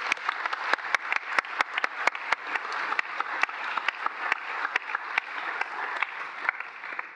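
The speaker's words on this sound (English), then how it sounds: "a big round of applause for the class of 2025." Sustained applause from a graduation ceremony audience celebrating the graduating BSc security studies class, dense clapping with sharp individual claps standing out, steady and fairly loud throughout with no talk over it.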